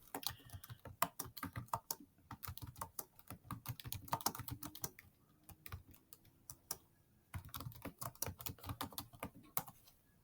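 Fingers type a short note on a computer keyboard in quick, irregular bursts of close, crisp key clicks, pausing briefly between words and resuming.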